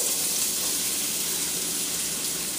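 Garlic and onion hiss in hot oil in a pan, a steady, bright sizzle that holds evenly from start to finish with no voices.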